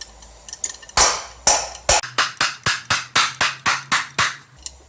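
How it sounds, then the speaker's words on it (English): A crescent wrench, the adjustable end wrench, strikes a nail about a dozen times, sharp metallic clanks settling into a steady rhythmic hammering, close and loud. "so I can use the crescent wrench to hit the nail"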